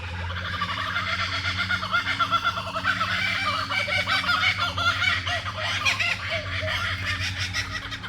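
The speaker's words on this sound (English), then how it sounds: "can you hear the kookaburra?" A kookaburra at a tropical fruit park near Cairns gives its loud, rolling, cackling laugh-like call over steady outdoor ambience, rising and continuing for several seconds.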